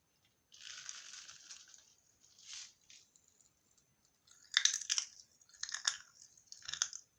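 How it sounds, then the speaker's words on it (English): Crunching bites of blue razz Pop Rocks candy, close and crisp, with bursts of crackling at separate moments and a louder cluster of crunches near the end. "Oh, listen to that crunch."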